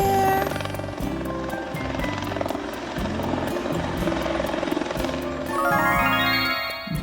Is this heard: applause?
no